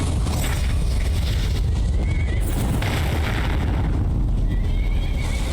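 A horse in Skyrim neighs and whinnies loudly while a wolf attacks it, with heavy dull thuds and rumbling combat noise throughout and no voices.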